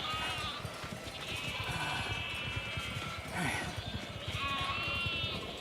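Sheep in the game The Alters bleat repeatedly, nasal cries rising over a busy patter of hooves and ambient noise, fairly close, with a brief voice passing over them.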